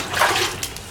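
A fresh bighead fish is rinsed in water, giving a single brief swish and splash up close, about a second long.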